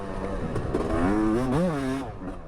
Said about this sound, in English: Rob can really get these two strokes singing. And he's looking pretty damn fast on this YZ250 here